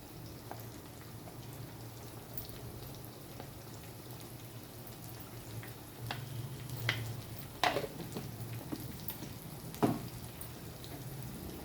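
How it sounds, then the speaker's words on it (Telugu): Ginger garlic paste frying in hot oil for a restaurant-style Mughlai egg curry, a steady soft sizzle with scattered crackles and a few sharper spatters, close by and moderate in level, with no talk. "ఇప్పుడు దీంట్లో కొంచెం అల్లం వెల్లుల్లి పేస్ట్ వేయాలి"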